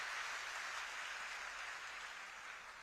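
At a felicitation ceremony in Amravati, an audience applauds in a steady, distant wash of clapping that slowly fades and stays faint throughout.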